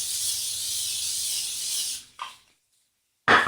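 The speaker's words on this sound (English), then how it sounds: "I'm going to spray the other side with some butter spray" Butter spray hisses onto a pan before pancakes, a steady close spray for about two seconds, then a short puff and another brief burst after a pause.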